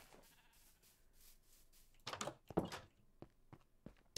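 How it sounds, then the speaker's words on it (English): Sheep bleating in Minecraft, a few short loud cries in quick succession near the middle, then fainter blips, over a quiet game background with no talking. "Wow, these sheep are loud."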